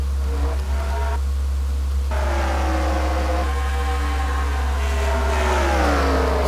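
Race cars from an NRSL MLP Cup Series online racing game round a lap on a short Fright Night event, engines droning steadily with rising and falling pitch as cars pass, loud and continuous with no talk.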